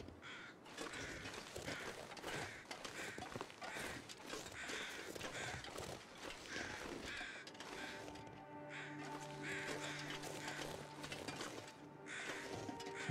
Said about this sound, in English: I heard birds. Where are they? You know, the ptarmigans.